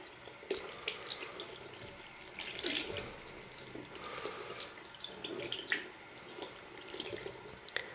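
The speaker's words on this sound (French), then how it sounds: "Il vous suffit de mouiller ce gant comme vous pouvez le voir ici." Tap water runs steadily into a sink and splashes over a makeup-remover glove being soaked, a continuous close hiss and patter with small splashy variations throughout.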